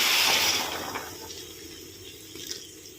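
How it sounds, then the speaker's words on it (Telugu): Boiling water poured over salted rice in a pot while making chicken biryani, a hissing rush of liquid that is loudest at the start and then fades to a softer, steady trickle. "వాటర్ మరిగినాయి ఈ వాటర్ పోస్తున్నాను"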